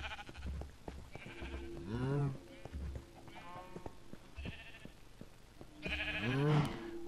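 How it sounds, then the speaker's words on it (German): Sheep in the video game Minecraft bleat in several wavering calls spread across the moment, fairly close, with faint footstep-like clicks and soft game sounds around them. "dann gehen wir erstmal zu den Schafen"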